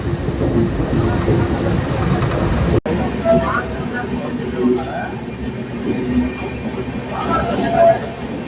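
An express train runs through a station, with a loud steady rumble of wheels and car noise heard from onboard, then a sharp shift to a quieter rolling hum with faint clatter and scattered brief tones.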